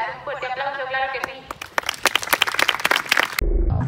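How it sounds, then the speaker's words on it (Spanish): An announcer's voice is followed by audience applause at a bird of prey show at the Monasterio de Piedra, with scattered claps building into a lively, uneven burst before it cuts off abruptly. "Un fuerte aplauso, claro que sí."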